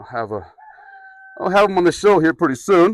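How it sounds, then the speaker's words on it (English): A rooster crows once in the background at the start, a short harmonic call, before a voice takes over and talks through the rest. "If you hear that in the background, that's our rooster."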